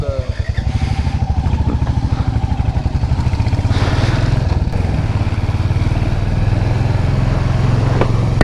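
Royal Enfield Hunter motorcycles ride toward Nagarkot, a loud close single-cylinder engine thumping in a steady rapid beat with wind and clatter, a voice talking over it.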